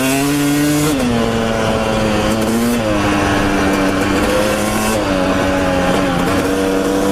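Motorcycle engine droning steadily while riding on a hot day, its pitch shifting as the rider changes throttle, loud and close with a light rush of wind noise underneath.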